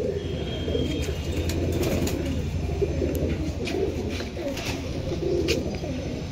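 Pakistani teddy pigeons in a loft coo in low, repeated throaty phrases, close and steady, with a few faint chirps above.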